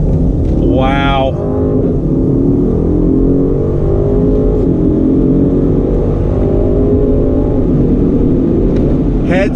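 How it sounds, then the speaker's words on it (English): BMW M850i from 2019 accelerating through a turn, its engine note rising and falling as the transmission upshifts, a steady loud drone filling the whole span beneath a voice talking over it. "the transmission is shifting like a dream. Upshifts fast"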